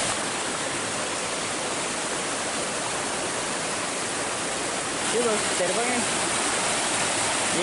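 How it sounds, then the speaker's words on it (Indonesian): Steady broadband roar of the second tier of the three-tier Baruttung Golla waterfall, loud and continuous throughout, with a brief spoken word and some faint chirping near the end. "Ini dia air terjun yang kedua."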